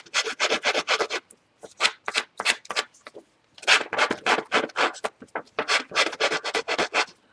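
The edges of trimmed craft paper are distressed with a rough, scratchy rubbing that comes in quick repeated strokes, in close bursts separated by short pauses, with no talking.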